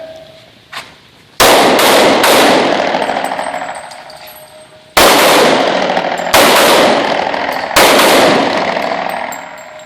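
About six loud, sharp gunshots ring out at an outdoor shooting range, spaced in quick pairs and singles, each followed by a long echoing decay, with a faint earlier pop.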